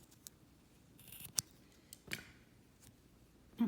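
Scissors snip through black string during crochet work: a few quiet, close, crisp cuts and clicks spread over a few seconds against a faint room hush.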